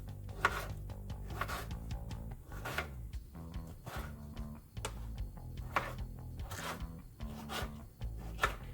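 A knife slices and dices a tomato on a cutting board for a quick taco salad, giving a steady run of soft, close chopping taps in an uneven rhythm with no voices.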